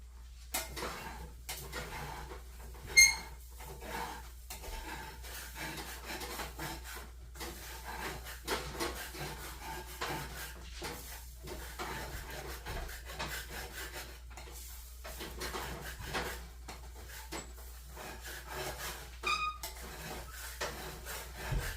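Metal spoon or spatula scraping browned bits off the bottom of a chili pot, a steady run of soft rubbing and rasping strokes over about twenty seconds with one brief sharper clank, no talking.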